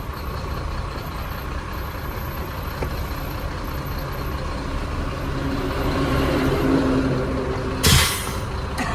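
A loaded truck pulls over to the roadside on a bypass road in the Ambernath MIDC industrial area. A steady engine rumble swells in the middle, then a short sharp hiss of air brakes comes near the end.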